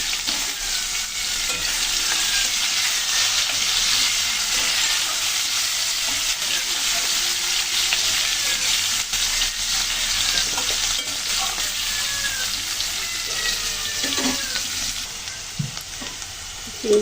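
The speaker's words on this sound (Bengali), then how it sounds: "চিংড়ি মাছের সাথে আলুগুলো খুব ভালো লালচে করে ভেজে নিলাম।" Shrimp and potatoes fry in a pan with a constant bright sizzle and crackle, close and steady throughout, with occasional stirring scrapes near the end.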